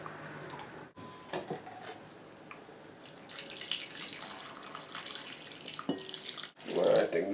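Hot boiling water pouring into a container of tomato paste, a soft continuous stream with light clinks and brief gaps, close and fairly quiet.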